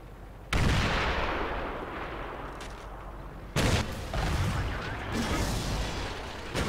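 Artillery shells landing in the tank battle game World of Tanks, two loud booming blasts with sharp onsets followed by sustained rumbling gunfire and explosions, no talking.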